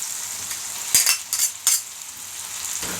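Ground beef frying in a pan with tomato for tortang talong: a steady high sizzle, with a few scraping stirs of a utensil against the pan partway through.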